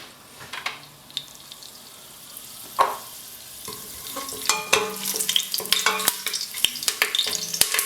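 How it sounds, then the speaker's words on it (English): Bay leaves frying in a few tablespoons of hot oil, with a steady crackling sizzle, sharp spattering pops, and occasional stirring clatter that grows busier and louder toward the end. "We start heating like good few tablespoons of oil, adding the bay leaves."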